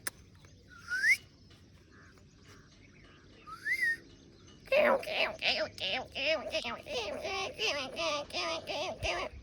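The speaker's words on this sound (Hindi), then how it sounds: "कौन सी चिड़िया है जो इतना आवाज़ कर रही है?" Bird calls: a couple of rising whistled chirps, then a rapid, loud run of repeated chirps close by.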